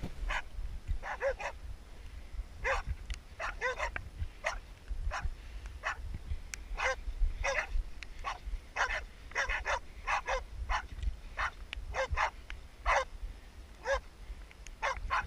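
Dogs bay at a pig in quick, uneven barking bursts at a steady distance during a boar hunt in Otago, New Zealand, with a low rumbling background throughout.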